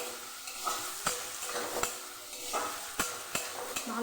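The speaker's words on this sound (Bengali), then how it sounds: "ভালোভাবে আমি ভেজে নেবো এটাকে লাল করে।" Chopped onion and garlic sizzle in hot oil in a pan while a utensil stirs them, the steady frying hiss broken by several sharp scrapes and clinks close by.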